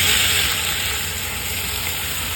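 Water poured onto teasel gourd frying in spices, giving a loud, steady hiss and sizzle that fades slightly over two seconds, with no one talking.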